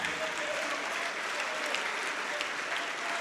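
A church congregation applauds steadily, a dense, continuous wash of clapping from many hands filling the room without pause.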